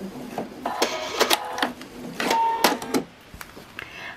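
A sewing machine runs a back stitch on a star quilt piece, close, in short stop-and-start bursts of clattering needle action with brief pauses between them.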